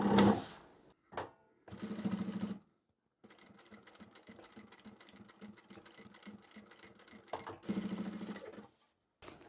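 A sewing machine stitches a folded belt loop keeper for trousers, running in several short bursts separated by pauses, with a longer steady run in the middle; close and fairly quiet.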